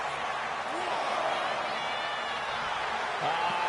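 A wrestling arena crowd in the video game WWE 2K25 roars in a steady, dense wash of cheering that continues without a break throughout.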